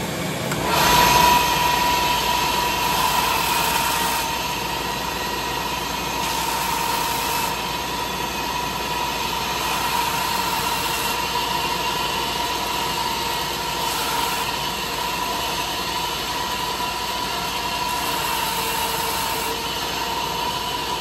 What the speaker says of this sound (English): carefully on the belt sander, I'll show you how I shaped them on the belt sander